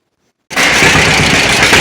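A John Deere B tractor engine with mistimed magneto ignition starts up abruptly after silence and runs loud and close, with rough, uneven firing and backfiring throughout.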